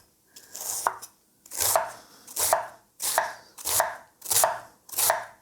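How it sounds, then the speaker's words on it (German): A knife chops a quarter of red cabbage into fine strips on a board, seven crisp, close, evenly spaced cuts with short pauses between them and no talking. "Und jetzt tun wir uns das Viertelchen alle so richtig schön in feine Streifen schneiden."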